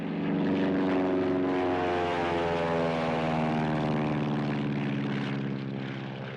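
Propeller airplanes of an aero patrol flying overhead in a 1930s setting, a loud, steady droning engine roar with strong harmonic hum that swells and holds for several seconds, no voices.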